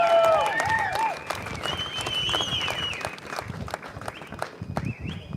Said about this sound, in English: Let's whistle, let's clap,